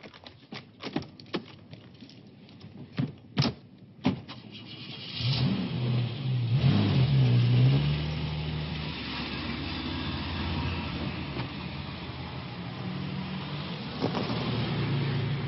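A car starts up after a few sharp clicks and knocks, then its engine revs hard and settles into a sustained, fairly close drone as it drives off at speed.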